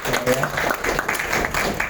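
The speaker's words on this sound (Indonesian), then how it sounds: "Tepuk tangan untuk Mas sekali lagi" Applause from an audience at an indoor gathering, a dense wash of clapping with people's voices mixed in, steady for a couple of seconds.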